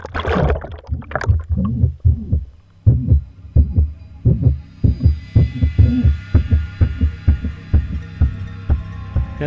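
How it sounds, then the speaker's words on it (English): Underwater recording of a rope rubbing against the edge of a flotilla, producing a rhythmic series of deep, muffled thumps like a heartbeat, steady and close, with a faint hum behind. "that's actually the sound of the rope on the edge of the flotilla"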